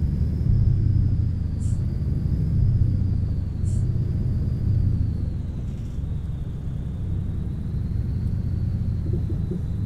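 Mercedes Actros truck driving in Euro Truck Simulator 2, a steady low engine drone and rumble with a faint high whine, plus a few short clicks.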